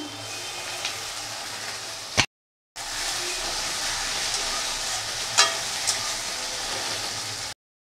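Onion, garlic, spice paste, tomato and green chilli sizzle in a pan, a steady broadband frying hiss with a brief silence midway and a few sharp crackles; no voices.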